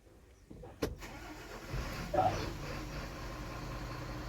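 A BharatBenz 2523 truck engine cranks after wiring and alternator repair, with sharp clicks, then catches and settles into a steady low idle, close and fairly loud.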